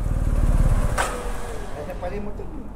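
A motorcycle, likely a BMW or KTM, idling close by with a low rhythmic engine putter that fades slightly, while people talk over it.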